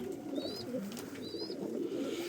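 Old-breed Mardin pigeons coo softly at a pigeon market, a steady low murmur of cooing with two brief high chirps from another bird rising above it.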